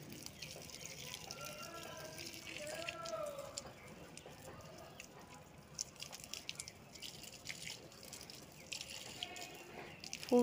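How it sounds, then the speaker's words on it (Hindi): Water is poured into plant pots at a home in Rajasthan, making a faint, irregular trickling and splashing with scattered drips throughout. "तो अभी पानी दे देती हूँ पहले तो मैं गमलों में,"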